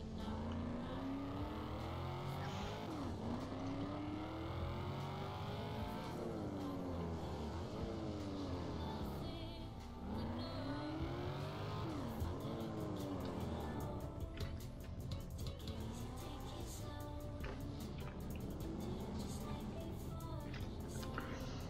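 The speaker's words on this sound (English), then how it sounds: "Look, I can drift very good." Engines of cars drifting in the Need for Speed racing game, a continuous roar with rising and falling revs and tire screech throughout, steady and loud with no pauses.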